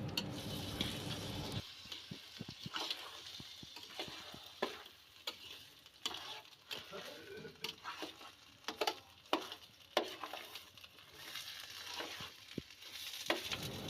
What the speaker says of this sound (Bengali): তারপর এই চালটাকে আমি ভালোভাবে ভেজে নিব।